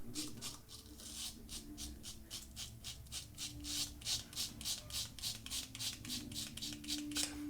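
A razor scrapes repeatedly over a thickly lathered face in a quick, regular rhythm of short close strokes, each stroke a crisp rasp, with no voices.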